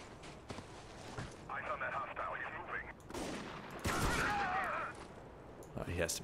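Gunfire in Spec Ops: The Line, a video game, with scattered sharp shots and bursts amid distorted radio-like voices, a person talking throughout, fairly faint overall.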